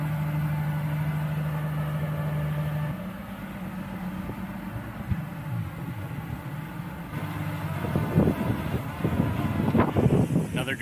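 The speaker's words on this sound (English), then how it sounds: "Good gust." Wind gusts buffet the microphone beside an Autel Nano Plus drone in flight, a low rumbling roar that swells louder near the end over a faint steady hum.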